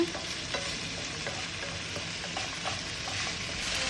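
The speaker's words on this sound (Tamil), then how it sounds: "ஒரு 2 மினிட்ஸ் நல்லா கைவிடாமல் கிளறி விட்டுட்டே இருங்க." Food frying in a pan crackles and hisses continuously as it is stirred without pause, with faint scraping strokes under a dense, even sizzle and no voices.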